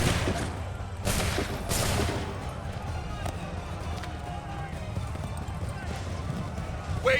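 Musket volley gunfire in the Assassin's Creed 3 video game, with sharp broadband bursts near the start followed by sustained battle noise, hoofbeats and shouting voices underneath.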